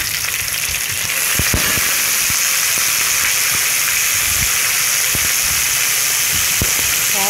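Onions and tomato pieces fry in a pan with a loud, constant sizzle, broken by scattered sharp pops and crackles throughout.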